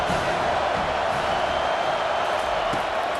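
A packed football stadium crowd at an LSU versus Penn State game roars as one, a loud, continuous wash of noise from thousands of fans in a big open bowl, with no distinct voices standing out.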